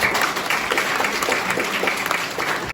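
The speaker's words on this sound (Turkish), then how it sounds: "bir alkış istiyorum" Audience at a Turkish minstrel tradition event gives a round of applause, a steady, loud, continuous clapping from many people that cuts off abruptly at the end.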